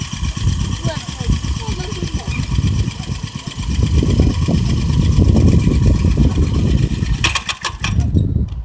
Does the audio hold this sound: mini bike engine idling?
yes